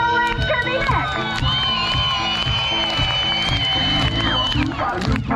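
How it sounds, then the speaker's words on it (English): Crowd at a live outdoor lumberjack show cheers and shouts loudly and steadily, a dense mix of whoops and children's voices that carries on without pause. "Who's cheering for Scott?"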